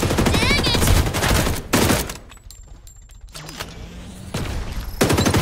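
Bursts of rapid gunfire from the video game Farlight 84, loud automatic volleys broken by a quieter gap, with a voice speaking over parts of it.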